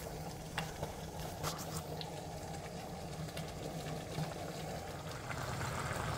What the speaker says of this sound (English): So I'm going to throw in the noodles